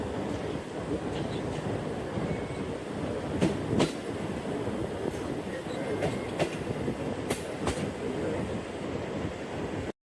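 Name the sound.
Jaffer Express train departing Sahiwal station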